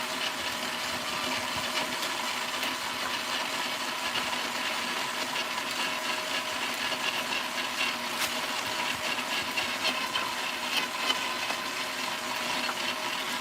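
A moringa seed oil press machine runs steadily at close range, giving a constant loud mechanical whirring and grinding hum with faint crackles on top and no talking.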